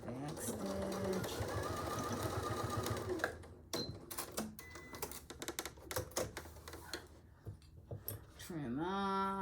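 A sewing machine stitches in a rapid mechanical whir while making an artist case with box corners, then stops and starts in short bursts with clicks, and a brief rising whir ends it.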